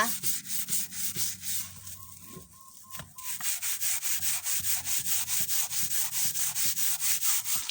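A wooden cutting board is scrubbed hard in steady back-and-forth strokes, a loud rasping rhythm that pauses briefly midway before resuming.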